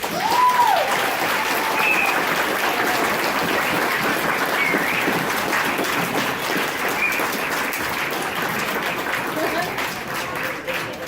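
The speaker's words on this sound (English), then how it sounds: "So if we could just give them a round of applause really quick" An audience at a youth sports awards banquet applauds the coaches with sustained, even clapping that fills the room for about eleven seconds, with a few scattered voices and a brief whistle-like tone near the start.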